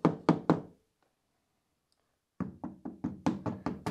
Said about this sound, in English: An old worn screwdriver, perfect for stabbing rust.